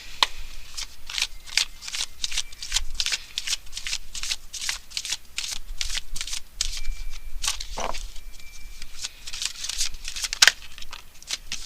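Romance Angels oracle cards being shuffled by hand, a steady run of close, crisp riffling flicks repeating quickly throughout with no voices.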